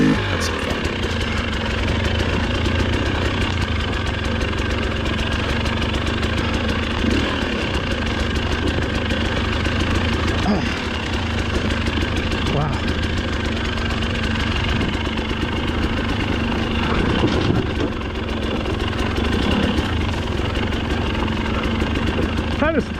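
Dirt bike engines drone steadily throughout a cross-country race at Brushy Mountain, rising and falling as riders pass close by, with a rider talking over the continuous engine noise.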